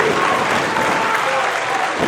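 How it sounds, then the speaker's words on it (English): Raucous applause from a pro wrestling crowd at a West Coast show, a loud, dense roar of clapping and cheering that holds steady for its short length without letting up. "The calamity of humanity is met with raucous applause from the West Coast"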